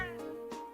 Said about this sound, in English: Crow starts playing with the cat.